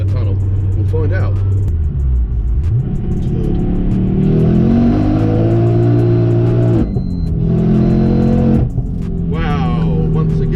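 A modified 500 hp Ford Focus RS Mk2 accelerates hard through a road tunnel, its engine note rising in long revving pulls with sharp gear-change breaks, loud and booming inside the car while people talk over it.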